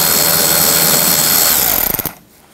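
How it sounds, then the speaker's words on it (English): A power tool with a 7 mm socket backs a screw out of a 2009-17 Chevy Traverse front end, whirring loud and close before winding down with a few stuttering pulses and cutting off into quiet. "Use a 7 millimeter socket, take that one out."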